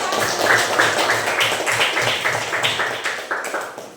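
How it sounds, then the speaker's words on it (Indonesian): Classroom applause for a student group, a dense burst of many hands clapping that stays fairly loud and steady, then starts to thin out toward the end. "Beri tepuk tangan untuk kelompok 1"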